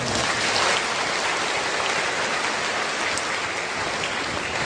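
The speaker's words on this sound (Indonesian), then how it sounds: "kita tepuk tangan untuk mereka" A church congregation at a concelebrated Mass with bishops claps steadily in a dense, even wash of applause that sounds almost like heavy rain, with no voices heard.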